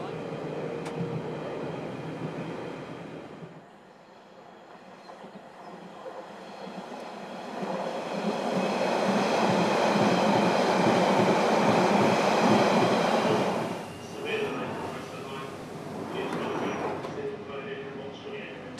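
A London Underground Central Line train runs through open air with a steady rumble, then drops into a quieter stretch. It builds to a loud, sustained roar with rhythmic wheel clatter as it descends into the tube tunnel, easing slightly near the end.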